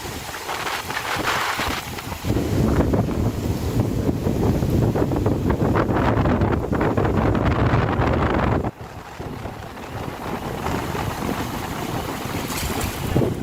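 Loud, continuous rushing of strong surf at high tide and wind at Lampu Satu Beach, Merauke, under cloudy skies, a dense roar that surges and briefly dips before building again.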